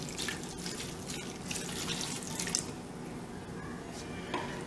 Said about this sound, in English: Then you take and pour in your 3/4 cup of red wine.